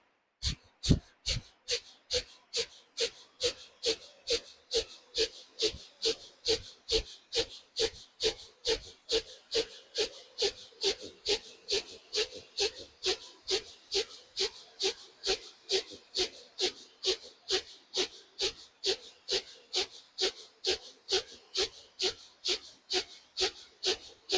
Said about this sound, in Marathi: भस्त्रिका प्राणायाम केल्यानंतर करा कपालभाती प्राणायाम